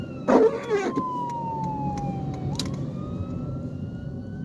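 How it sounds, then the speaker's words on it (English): An ambulance siren wails past outdoors in a single long, falling-then-rising tone, after a brief burst of nearby noise at the start; it stays moderately loud and clear without any voices. "there's a freaking ambulance going"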